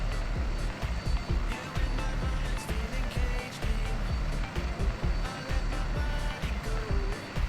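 A Chinook helicopter in a flight simulator, flying over the Caucasus mountains: a dense, continuous rotor and engine roar with rapid choppy pulsing, steady and loud throughout.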